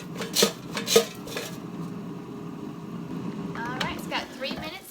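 Fries rattle and scrape in a Cook's Essentials 5.3-quart air fryer basket, with two sharp metallic shakes near the start followed by softer clinks over a steady fan hum while someone talks.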